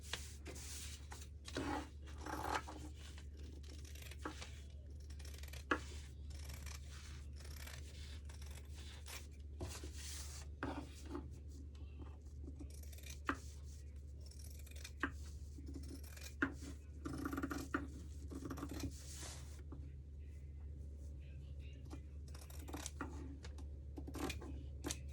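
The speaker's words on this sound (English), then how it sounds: "And then we're just gonna cut it out." Scissors cut through paper or card, trimming out a traced lemon-shaped tag, in a quiet room: a close, steady run of soft snips and rustles with small taps and shuffles between cuts.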